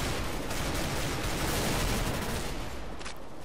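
Gunfire in the video game Counter-Strike: Global Offensive comes as loud, continuous rattling bursts of shots that crowd the whole clip, easing slightly near the end.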